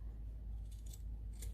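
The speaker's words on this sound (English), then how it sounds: "I might trim it down just a little bit, but not too much" Scissors trim fabric for a small zippered sewn pouch, giving a few soft, crisp snips close by over a low steady background hum, with no talking.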